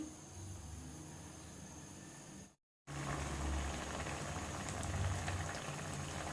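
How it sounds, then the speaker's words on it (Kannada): Water boils steadily in a pot being readied for oats, a close, continuous bubbling hiss that cuts out briefly and then resumes at the same even, rolling intensity. "ಈಗ ಚೆನ್ನಾಗಿ ಕುದೀತಾ ಇದೆ"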